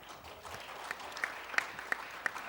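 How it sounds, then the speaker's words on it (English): An audience at a security forum applauds to welcome a session moderator, steady clapping throughout with a few sharper claps standing out near the end. "please welcome our moderator with a big round of applause"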